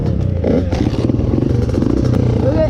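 Yamaha YZ85 dirt bike being ridden nearby, its engine a loud, continuous buzzing drone with revving swells and some clattering, with voices faintly mixed in.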